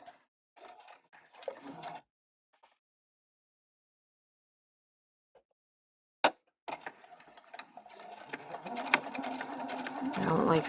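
Sewing machine stitching a fabric birthday crown: short bursts of stitching, a long quiet pause broken by a sharp click, then a steady run of close, loud stitching.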